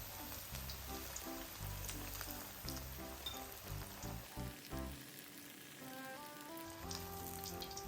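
Pieces of lamb fry in a pan over medium heat, giving a soft, steady sizzle that runs beneath louder background music throughout.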